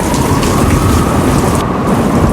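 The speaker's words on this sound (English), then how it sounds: "Such a violent storm arose that the ship threatened to break up" Thunder and rain from a stage-play storm effect roll on continuously, a loud, dense rumble with heavy rain hiss and no pause.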